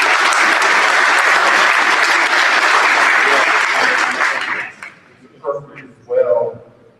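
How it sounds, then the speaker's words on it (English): A large convocation crowd applauds for faculty and staff, dense and loud clapping that carries on steadily for several seconds, then fades out and gives way to a voice speaking. "I ask you to please give our faculty and staff a big round of applause."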